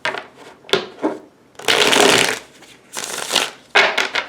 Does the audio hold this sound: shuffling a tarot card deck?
yes